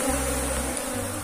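Apis cerana honey bees buzzing close by after being moved from the wild, a steady dense drone with layered hum, loud and continuous throughout.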